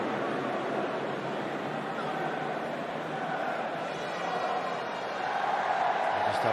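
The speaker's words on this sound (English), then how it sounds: "The crowd entertain themselves in the meantime, as you'd expect." Crowd at a rugby stadium for Zambia vs. Tonga, a steady broad murmur of chatter and voices filling the ground while play is paused for a video review, swelling slightly near the end.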